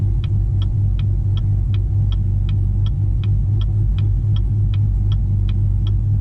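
A cammed 2017 Camaro SS idles roughly and close up, its deep lumpy exhaust rumble loping unevenly with a steady ticking running through it, no voices over it.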